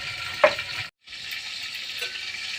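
Chicken masala fries in a covered pan with a constant close hiss and crackle of sizzling oil, briefly cut off to silence partway through before resuming, with no speech.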